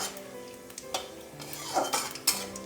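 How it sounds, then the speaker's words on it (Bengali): Whole spices, dried red chili broken in two and a bay leaf sizzle in hot oil over a low flame for a Bengali fish curry, with a steady soft crackle, clinks of a stirring spoon against the pan and no talking. "এই যে ফোড়নগুলো ছিল আমি দিয়ে দিলাম দিয়ে শুকনো লঙ্কা ছিল সেটা দু টুকরো করে দিয়ে দিলাম তেজপাতাটা দিয়ে দিলাম"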